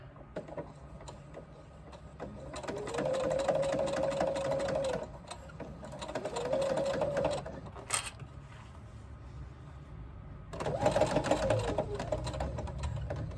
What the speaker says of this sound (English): Pull it down and do your top stitch